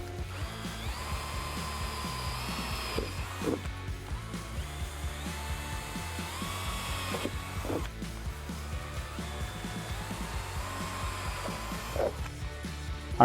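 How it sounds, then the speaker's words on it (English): A power drill bores 1/8 inch holes across the roof of a RAM 1500 truck cab in repeated bursts, its whine rising and settling with each hole, loud and close with steady background hum. "I'm going to drill an 1/8 inch hole right at the center of the targets across the entire of the roof"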